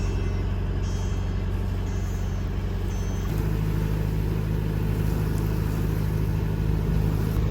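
A sailboat's engine motoring across a bay in Mexico: a loud, continuous low drone with a steady tonal hum, shifting pitch slightly partway through.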